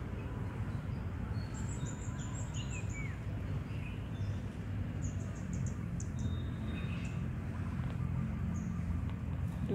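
Faint, high birdsong chirps come and go above a steady outdoor background hum in a flower garden where insects gather around the blossoms.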